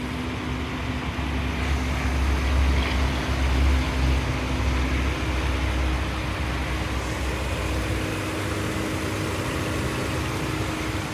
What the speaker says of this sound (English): Let's check the engine first, and then we're gonna walk around the vehicle.